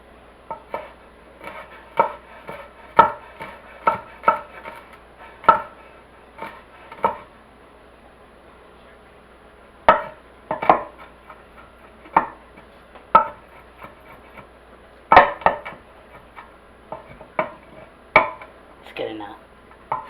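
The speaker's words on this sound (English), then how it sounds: "Just going to chop those up." Garlic cloves chopped with a knife on a cutting board, a series of sharp, close, irregularly spaced thunks with brief pauses, while a voice speaks quietly in between.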